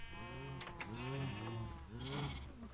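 Sheep bleat in a video game, several wavering calls in succession, close and fairly soft, with no talk over them.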